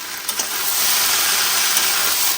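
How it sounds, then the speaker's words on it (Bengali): Slices of pointed gourd (potol) fry in a hot pan at home, giving a loud, dense, unbroken sizzle that stays steady for a couple of seconds before cutting off abruptly. "আর এখানে আপনার দাদাভাইয়ের জন্য পটল ভাজা হচ্ছে"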